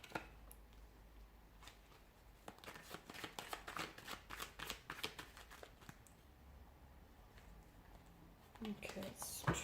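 Tarot cards shuffled by hand in bursts of quiet riffling and flicking, close and soft, with a brief pause before a louder rustle near the end.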